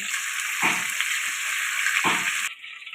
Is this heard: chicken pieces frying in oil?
yes